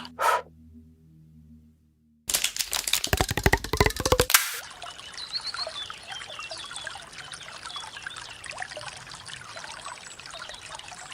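Water trickles through a slimy creek in a cold, grey field, a steady soft babbling that follows a brief loud rustle and continues alone for several seconds.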